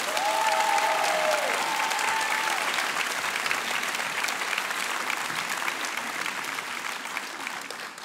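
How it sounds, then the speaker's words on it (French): Sustained applause from a school auditorium audience at the final of a high-school eloquence contest, dense and steady clapping filling the whole stretch with no pause, a few voices faint beneath. "un torrent d'applaudissements pour Ibrahim Kaba"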